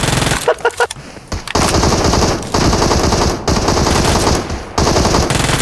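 Dense automatic gunfire in the mobile battle-royale game PUBG Mobile, loud sustained bursts of rapid shots with brief gaps between them, filling nearly the whole stretch.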